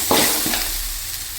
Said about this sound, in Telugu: అల్లం వేస్తే ఇలా కింద మారుతుంటుంది దాన్ని మనం బాగా కలుగుతాం మాడిపోకుండా